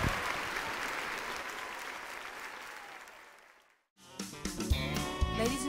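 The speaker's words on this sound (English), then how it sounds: "Give him a huge round of applause." Enthusiastic audience applause after a performer's song, a full, dense roar of clapping that fades out, followed by a brief silence before music starts.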